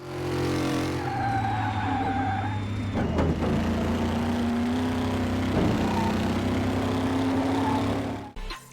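A car engine in Car Mechanic Simulator 18, meant to be a McLaren P1, drones steadily and loudly at a flat pitch with little variation, with a brief clunk partway through and a cutoff at the end.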